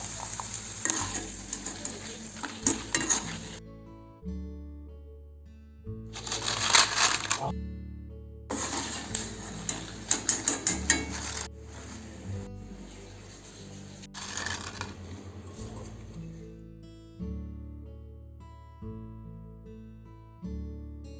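Thin potato slices frying quickly in hot oil for aloo chips: bursts of bright crackling sizzle interrupted by metallic stirring clinks and scrapes against the pan, close and fairly loud, with short pauses between bursts.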